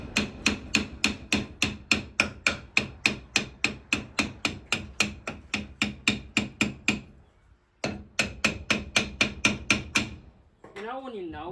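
Rapid, loud metallic hammer blows in a steady rhythm on a seized brake part of a Dodge Dart, a brief pause, then another quick burst of strikes, ending with a short whine.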